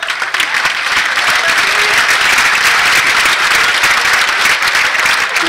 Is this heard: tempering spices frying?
no